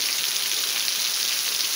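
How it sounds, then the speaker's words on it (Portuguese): Steady, dense rain pours down in Ceará, an even hiss of drops on surfaces that continues without pause, close and fairly loud, with no voices. "chuva maravilhosa que Deus está mandando"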